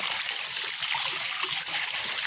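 Water splashing and trickling steadily while beef tripe is washed clean by hand, a continuous close wet rush with no talk.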